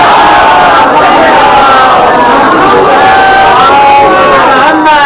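A large crowd at a majlis in Karachi recites salawat in unison, a loud, sustained chorus of many voices filling the hall in a continuous chant.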